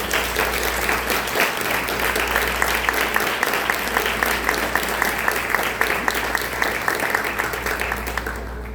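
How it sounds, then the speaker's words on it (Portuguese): A church congregation applauds during a family worship service. Dense, steady clapping from many hands carries on for about eight seconds before trailing off at the end. "dá uma linda salva de palmas para o Senhor Jesus."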